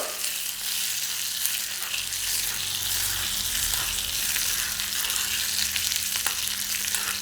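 Continuous hissing and crackling of spices frying in hot oil for a curd rice tempering, close and steady for several seconds, with a low hum underneath and no talking.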